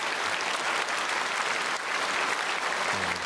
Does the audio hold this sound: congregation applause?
yes